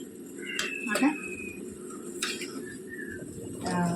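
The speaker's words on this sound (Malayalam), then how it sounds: "ഇനി ഒഴിച്ച തന്നെ നന്നായിട്ട് ഇളക്കണം" A spoon stirs arrowroot payasam mixture with melted jaggery in a pot, giving a few light metallic scrapes and clinks while someone talks over it.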